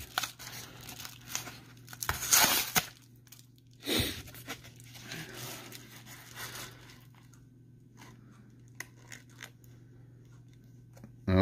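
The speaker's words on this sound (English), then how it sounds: "So let's tear it open and see what's going on here." A paper mail envelope is torn open by hand in a few quick, rough rips, followed by soft crinkling and rustling of the paper, close and fairly quiet.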